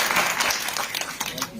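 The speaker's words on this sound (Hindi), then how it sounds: "तो एक तालियां अपने लिए बजा लीजिए" Applause rises from the crowd at a weekly public grievance programme held by a block administration in Kandi Rafiabad, a dense patter of clapping that runs steadily through the moment, with speech sounding alongside it.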